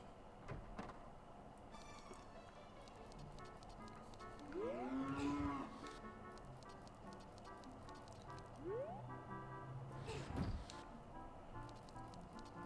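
Cattle moo a few times at a distance amid a busy background of clattering and shimmering sounds in The Legend of Zelda: Ocarina of Time, with no talking.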